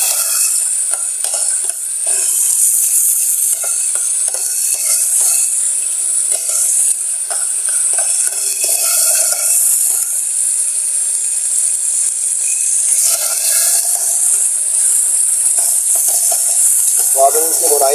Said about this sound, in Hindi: अदरक लहसुन के जो पेस्ट है प्याज से भूनेंगे प्याज के साथ ही